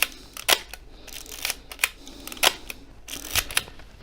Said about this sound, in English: Let's try it on the second and see how that shutter is.